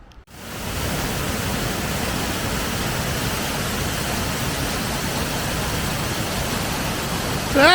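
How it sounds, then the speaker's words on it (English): A small waterfall on the Menai Strait coast in North Wales pours with a steady broadband rush, loud and close, unbroken for several seconds before a brief squeaky sound at the end. "So that's a nice little waterfall, isn't it?"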